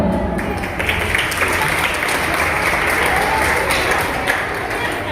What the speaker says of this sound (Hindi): पूरे उत्साह के साथ तालियों से स्वागत करें